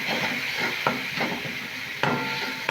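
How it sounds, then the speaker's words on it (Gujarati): A spoon stirs semolina batter mixed with a paste, giving a close, soft wet scraping and swishing with a few sharper clinks against the bowl over a steady hiss. "હવે આ બધું જ આપણે હલાવી દઈશું।"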